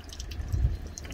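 Water runs and splashes as a campervan's water tank is filled at a filling station, a close, brief gurgling trickle with faint drips.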